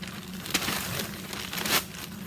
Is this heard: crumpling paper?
yes